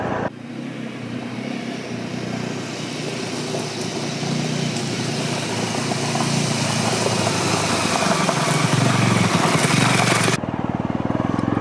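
A Honda CL250 motorcycle ridden off-road on a flat dirt area after a climb, its engine buzzing loudly and steadily close to the rider for about ten seconds before cutting off abruptly.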